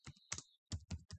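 Bursts of keystrokes on a computer keyboard while Java code is written, five short clusters of clicks with brief pauses between them, close and fairly quiet with no talking.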